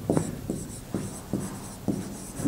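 Pen strokes on paper during a class 12 maths probability lesson, a series of short scratchy bursts about every half second, close and fairly quiet, with no talking over them.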